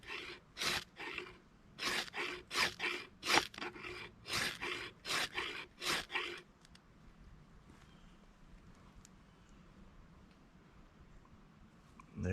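A ferro rod is scraped with a metal edge in a series of about a dozen quick, close rasping strokes, followed by a quieter stretch of faint crackle and rustle outdoors, with no talking.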